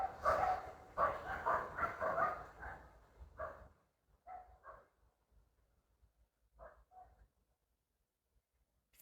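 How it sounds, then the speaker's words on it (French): Three or four chihuahuas bark in bursts, loud and clustered at first, then sparser yaps that thin out toward the end, heard at moderate distance. "Vous savez qui c'est qui aboie là? C'est les chihuahuas."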